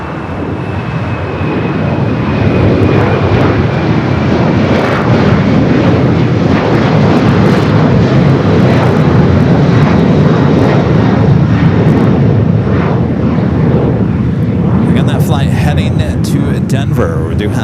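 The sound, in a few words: American Airlines plane taking off from LAX runway 25 right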